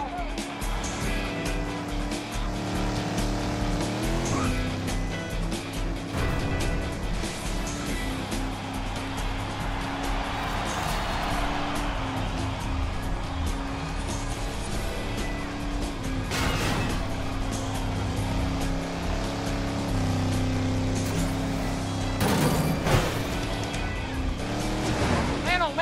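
Race cars in the Lego Cars 2 video game on a night circuit in Tokyo, Japan: a steady engine drone with whooshes of passing cars, under continuous music and a commentator talking.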